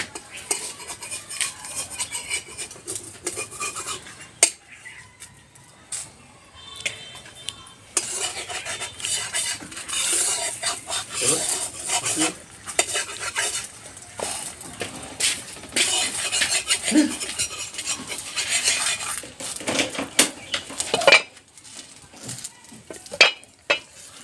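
Patisapta crepe, the Bengali rice-flour pancake with kheer and coconut filling, turned over in a pan: scraping spatula and pan clatter with light sizzling, intermittent and close, with no voices.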